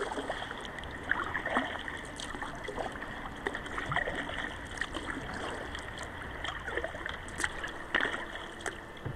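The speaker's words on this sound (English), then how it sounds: "Gentle swells this morning out on Lake Superior." Gentle swells on Lake Superior lap and gurgle against a boat's hull, a continuous soft watery wash with small splashes throughout, fairly quiet and close, with no voices.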